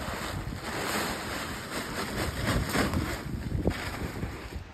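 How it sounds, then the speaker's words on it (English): Strong March wind gusting through a vegetable garden, a loud rushing roar with buffeting rumble against the microphone that swells and eases over several seconds, with no voices. "it's still really, really windy, as you can tell"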